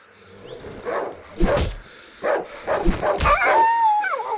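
In the survival horror game Darkwood, a dog yips, barks and whimpers in a few sharp bursts that end in a thin, high whine, close and loud, with no talk over it.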